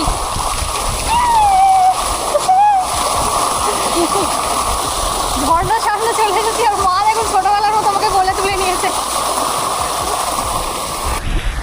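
Water splashes and churns continuously as someone swims toward a waterfall at a sea beach, with a steady rushing water background and voices calling and talking over it throughout.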